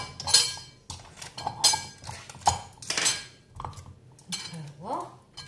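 A metal spoon clinks and clatters against dishes while cold homemade cappuccino is being prepared, giving sharp separate strikes with short gaps between them, close up and fairly loud.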